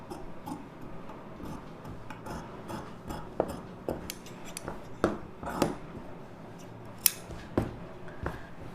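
Scissors snip through lining blouse fabric at close range, giving a steady run of soft crisp cuts and sharper clicks as the blades close, with no talking.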